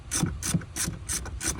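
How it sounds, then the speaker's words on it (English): A hand ratchet wrench with an E12 socket removes bolts on a 2019+ Ram 1500 Crew Cab, five rhythmic clicking strokes, close and clear without talk. "we'll remove 2 bolts on the driver's side, and if you have power tools"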